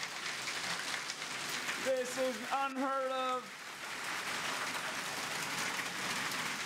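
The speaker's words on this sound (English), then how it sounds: "we're having a hailstorm here in Curitiba." Hail and rain pelt down steadily during a hailstorm in Curitiba, a dense, hissing patter throughout, while a person briefly speaks over it.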